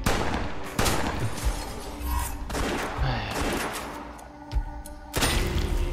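Gunfire in the video game West of Dead, including a double-barrel shotgun: several loud, sharp blasts spaced irregularly, each with a booming tail, close and dominant in the mix.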